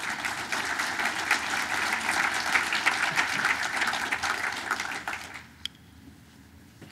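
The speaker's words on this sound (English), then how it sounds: "So one more round of applause for all the landscaping nominees and winners." A breakfast crowd applauds a landscaping award winner at a business appreciation event, dense clapping for about five seconds that then drops off quickly, leaving a quiet room with one stray sharp sound.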